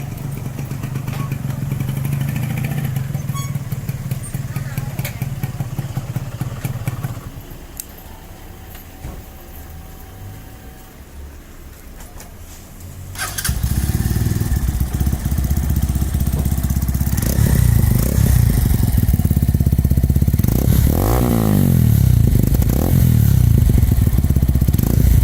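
A Brixton Klasik motorcycle with a modified exhaust, its silencer and air filter removed, running loud and near: a rough idle, a quieter stretch, then louder revving with rising and falling engine pitch.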